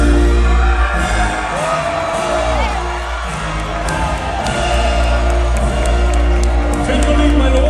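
A crowd cheering at a medieval-style tournament show, loud whoops and shouts over a continuous roar with music underneath, staying dense and steady throughout.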